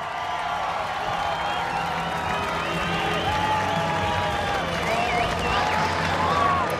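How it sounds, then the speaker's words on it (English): A crowd roaring at the X Games BMX Big Air contest, a broad continuous cheer with whoops and applause rising slightly, while a commentator's voice runs over it. "And you can hear the roar of the crowd here."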